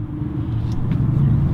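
A truck engine rumbles steadily and loudly from close by, a low continuous drone throughout the moment with no speech over it.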